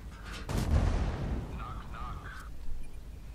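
A tank cannon firing in World of Tanks, one heavy booming shot with a deep rumbling tail that fades over a couple of seconds, followed by fainter mechanical clanks.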